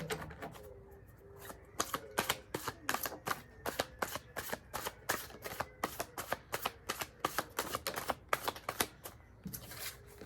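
Tarot cards shuffled and drawn, a long run of quick crisp riffling snaps and flicks close up, faint and fairly regular, with no talking.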